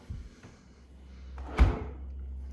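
A KitchenAid 48-inch built-in refrigerator door swings open in a quiet kitchen, with a soft thud and a brief clunk partway through, then a faint hum after it.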